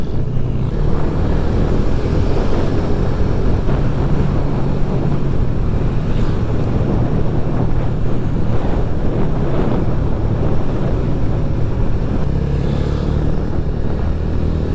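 Strong wind roars steadily against the microphone on a ride through a cool, foggy mountain area in La Union, a constant broadband rush with a low rumble and no pauses.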